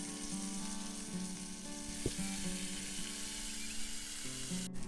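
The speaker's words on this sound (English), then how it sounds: "let that sear for a couple minutes on that side" Steelhead trout fillet brushed with melted butter searing in a cast iron skillet on a Weber kettle grill, a constant close crackling sizzle with faint background hum and no talk.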